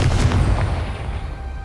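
A Confringo fire spell blasting in Hogwarts Legacy, a booming burst with a heavy low-end rumble that decays over a second or so, close and loud, with no voices.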